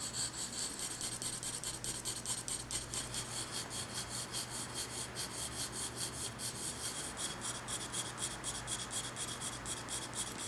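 Graphite pencil shading a plant pot on drawing paper with fine, dense strokes, a steady continuous scratchy rubbing that goes on without pause, close and quiet, with no talking.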